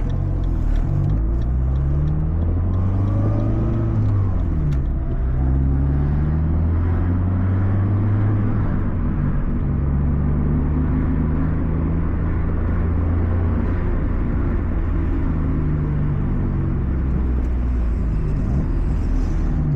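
Abarth 500 engine drones loudly and continuously from the driver's seat while driving, with pitch sweeping up and down through gear changes under a constant road rumble.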